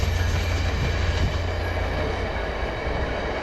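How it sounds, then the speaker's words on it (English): A passenger train rumbles past nearby, a loud continuous roar of wheels and rail noise with faint clatter, filling the whole stretch without pause. "Oh, that's the passenger train."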